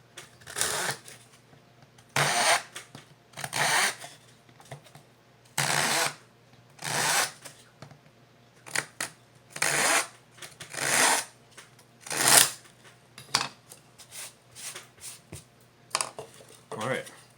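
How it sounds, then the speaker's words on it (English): Small razor saw cutting through wood while making a Native American style flute, heard as a series of short rasping bursts of strokes with brief pauses between them, close and fairly loud with no talking. "I'm going to use just a little razor saw here for this end, show you how that works"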